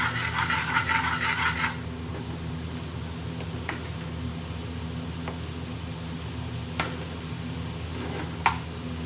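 Onions for chicken tikka achari fry in a pan with a steady, soft sizzle, louder at first, then settling into a quiet background hiss punctuated by a few faint clicks.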